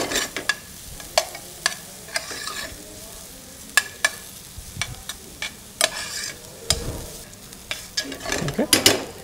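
Garlic pieces, spring onion, celery and small carrot pieces frying in olive oil, a steady close sizzle broken by repeated sharp scraping clicks of a utensil stirring against the pan, no talk.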